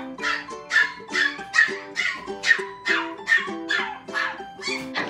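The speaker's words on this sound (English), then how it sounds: "I thought Bailey was terrible for whining" A poodle puppy whines and yips over and over, about ten high-pitched, wavering cries in quick succession, close by and alone.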